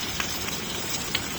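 Hail and cold rain fall outdoors in Macomb, Illinois, a dense steady patter with a few sharper ticks of ice striking surfaces.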